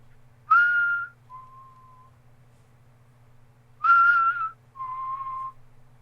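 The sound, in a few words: person imitating a whistle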